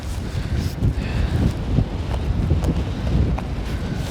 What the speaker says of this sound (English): that wind's definitely picking up.